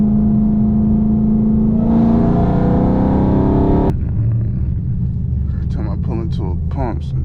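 A Dodge Hellcat Redeye engine roars loudly and steadily while driving, its rumble climbing in pitch as it revs, then dropping to a lower drone as voices talk over it.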